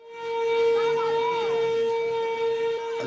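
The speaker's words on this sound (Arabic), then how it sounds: "تدوي صفارات الإنذار" An air raid siren wails with a steady, sustained tone, loud and unbroken, while faint voices murmur underneath, in Aleppo, Syria, during aerial bombing.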